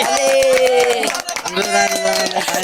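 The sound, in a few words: clapping at a child's birthday celebration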